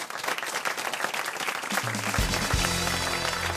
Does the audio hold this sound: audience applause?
yes